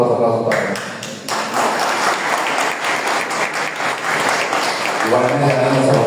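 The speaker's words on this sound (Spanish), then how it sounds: "Fuertes aplausos para él." Audience applause fills a public meeting hall, dense steady clapping from a crowd that swells after an announcement and continues throughout at close, loud level.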